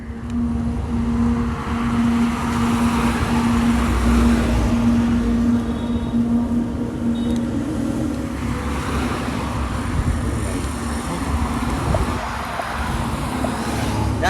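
A Honda Activa 6G scooter rides along a road on a long-distance trip, its engine and wind rush forming a loud, continuous drone with a steady low hum and no talking.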